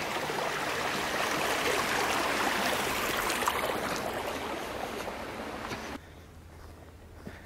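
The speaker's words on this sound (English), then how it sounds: "We've got this little wintry cascade." A small wintry cascade of water on a woodland trail gives a steady close rushing and splashing flow that drops to a quieter trickle near the end.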